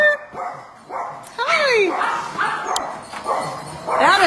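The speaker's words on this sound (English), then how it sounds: "That is a miracle puppy." Rescue dogs, including the puppy Homer, bark and yip repeatedly in a loud indoor chorus, mixing high whiny yelps with sharper barks, while a person briefly speaks over them.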